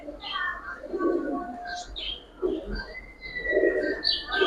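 Giribaz coloring pigeons cooing in soft, repeated low coos with a few higher chirps, close by, with no talk over them.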